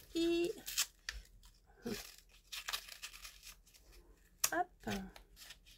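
A paper envelope is handled and torn open with rustling, crinkling and short tearing bursts at close range. A person talks quietly between the paper sounds.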